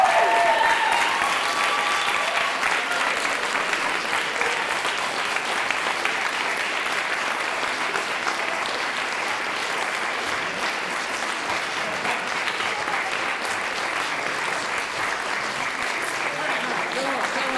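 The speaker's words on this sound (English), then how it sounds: "We'll do one round of applause for you." An audience applauds after a film Q&A, sustained loud clapping from a crowd that starts at full strength and holds steady for the whole stretch.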